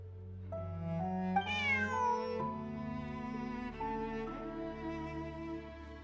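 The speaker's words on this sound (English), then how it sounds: "Bonnie is Pierre's cat." A cat meows in the Genshin Impact video game, a long drawn-out tonal call that rises sharply and then slides slowly downward, clear and close over a steady low musical drone.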